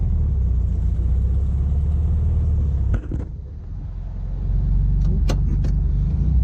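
A 1969 Volkswagen Beetle engine idles with a steady low rumble, dipping briefly midway, with a few sharp clicks and knocks near the end.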